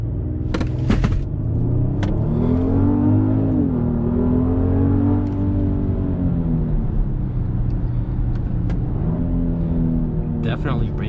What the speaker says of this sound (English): I'm going to go ahead and brake boost it.